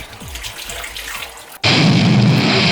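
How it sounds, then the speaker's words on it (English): Cut butternut squash pieces rinsed under a kitchen tap: after a quieter stretch with soft knocks, running water suddenly bursts on loud and steady, splashing continuously close by. "I'm just taking a piece once I've cut it and just rinsing it again"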